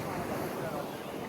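Big ocean waves wash onto an Australian beach in a steady, roaring rush of surf, with wind buffeting the microphone throughout.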